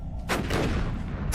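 Grenade explosion in Cataclysm DDA, one loud deep boom with a rumbling tail that lasts about a second, close and alone.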